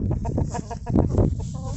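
A rooster clucks repeatedly in short, close bursts, with a few louder squawks in the middle; no talking.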